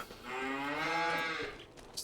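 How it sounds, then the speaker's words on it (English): A dairy cow moos once in the Farming Simulator video game, a single loud, drawn-out low call lasting about two seconds. "I wanted to load this up completely with dairy cows"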